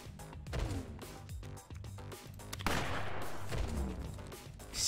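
Gunshots and impact crashes from the video game Fights in Tight Spaces, several sharp bursts spread through the clip over a steady game soundtrack, moderately loud.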